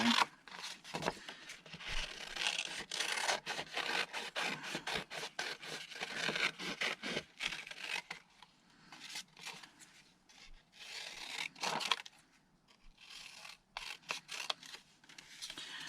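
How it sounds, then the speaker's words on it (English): Scissors cutting sheets of stamped paper labels into strips, a series of close crisp snips and paper rustles coming in irregular bursts, with a brief pause partway through and no talk. "So we'll just cut this into strips here."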